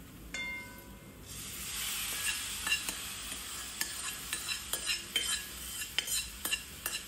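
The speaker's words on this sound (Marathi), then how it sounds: "ही भाजी चांगली अशी एकजीव करून घ्यायची आहे।" Cooked vegetables are stirred into a sizzling mixture in a pan, a quiet steady fry hiss punctuated by repeated scraping and tapping strokes of a utensil against the pan.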